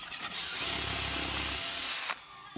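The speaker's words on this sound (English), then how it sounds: "So now we have to countersink everything." A power drill countersinks screw holes in wood while a brick mould is being built, giving a close, loud whirring grind that lasts about 1.5 seconds and then stops with a faint click.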